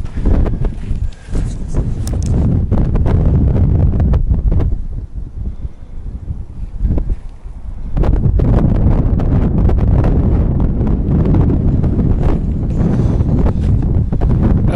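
Strong wind blowing outdoors, buffeting the microphone with loud roaring gusts that drop briefly to a quieter lull before surging back, close and continuous, with no speech.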